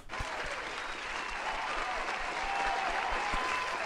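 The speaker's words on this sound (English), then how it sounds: "Please give him a round of applause" A room full of people gives a sustained round of applause, a continuous even wash of clapping that holds steady from start to finish.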